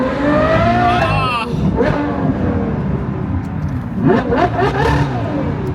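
A supercar engine in China revs loudly and close by, the pitch sweeping upward and dropping before a second surge, with a steady drone between bursts and voices talking over it.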